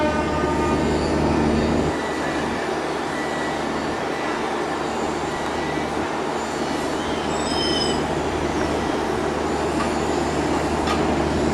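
A passenger train at Shanhaiguan, China rumbles steadily and slowly along the tracks, loud and close, with a constant low roar and faint metallic squeals of wheels.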